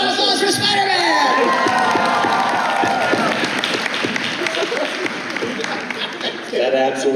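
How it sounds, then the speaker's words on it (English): A convention crowd at Otakufest cheers and applauds for a Spider-Man cosplayer, a loud dense roar of shouts, whoops and clapping throughout, with voices calling out over it. "Round of applause"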